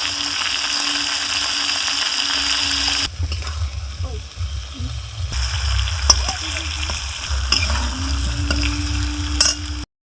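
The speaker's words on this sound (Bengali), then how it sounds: "আলুটা কষার সময় সামান্য হলদি দিলাম সামান্য নুন দিলাম" Potatoes sauté in a pan with turmeric and salt in a continuous close sizzle, which briefly quiets while being stirred and then resumes, along with a steady hum and a few utensil knocks.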